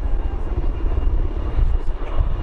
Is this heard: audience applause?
no